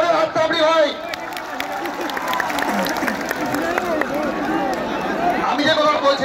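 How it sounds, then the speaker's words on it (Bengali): A rally crowd in Purulia claps and cheers for Mithun Chakraborty, a dense burst of applause mixed with crowd babble that swells at the start and end. "মিঠুন দার জন্য জোরে হাততালি হয়"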